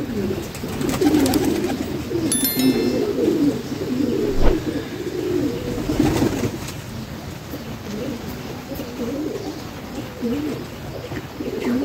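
Several pigeons coo continuously up close in a nesting spot with straw and eggs, with low, overlapping throaty rolls and faint background noise.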